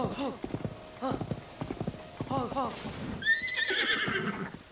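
White horse in the video game Zelda: Tears of the Kingdom, its hooves clip-clopping in steady bursts, then a loud, high whinny near the end, with someone talking over the hoofbeats.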